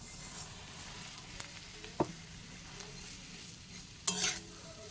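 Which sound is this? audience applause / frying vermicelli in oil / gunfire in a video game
frying vermicelli in oil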